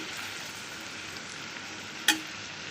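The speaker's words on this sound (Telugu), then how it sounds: "అల్లం వెల్లుల్లి పేస్ట్ పచ్చివాసన పోయే వరకు వేపుకొని" Ginger garlic paste frying in oil with onions and carrots for a French beans curry, a steady soft sizzle running throughout with one brief sharp clatter near the end, no talk.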